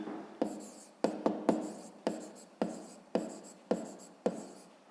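Pen or chalk writing by hand while working a math exercise, a series of close, distinct scratchy strokes in an irregular rhythm, each stroke starting sharp and trailing off, with no talk over them.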